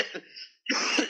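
A man in a vintage Bollywood film scene gives a short rough cough and then clears his throat harshly after a brief pause, close and loud.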